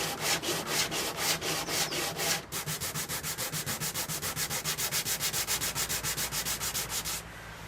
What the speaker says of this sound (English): I'm going to fair it in place using a combination of a grinder and a sanding machine and some abrasive paper